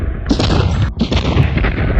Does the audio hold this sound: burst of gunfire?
yes